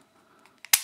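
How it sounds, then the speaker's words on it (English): A single sharp metallic click near the end as the magazine is pulled from a Beretta 84FS Cheetah pistol, preceded by a few faint small handling clicks, close and otherwise quiet. "Magazine out."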